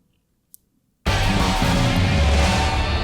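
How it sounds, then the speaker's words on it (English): An elevator climbing floors, heard as a sudden loud, dense mechanical roar that cuts in after a short silence and holds steady, close and unbroken until the end. "I guess this is the sound of the elevator going up floors."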